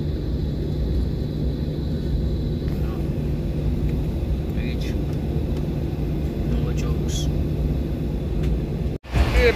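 Steady low rumble of an airplane cabin with engine drone, constant and enveloping, with faint high whines and a brief dropout near the end.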